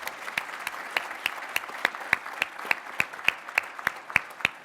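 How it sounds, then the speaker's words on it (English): Audience clapping for an executive named Jerry Norcia at a business event, with sharp, regular claps standing out near over a softer bed of applause. "One more round of applause for Jerry Norcia."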